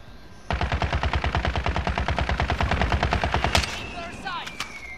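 Rapid automatic gunfire from a Call of Duty Warzone match, a loud, steady burst of about three seconds with evenly spaced shots, then a reload clatter and faint game chatter.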